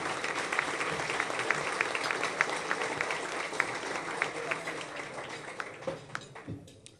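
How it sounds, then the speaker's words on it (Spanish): Audience applause for speaker Raúl Sendic at a Somos Uruguay evening talk, a steady dense wash of many hands clapping at moderate distance that tapers off near the end. "Le damos un fuerte aplauso a Raúl Sendic, nuestro expositor de hoy."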